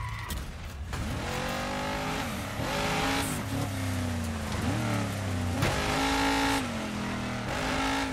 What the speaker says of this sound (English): Oh, this car is hard to control.